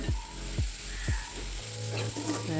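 Sizzling and frying of egg curry in a pan with a spoon scraping and stirring through it, a few distinct strokes early on, close and steady.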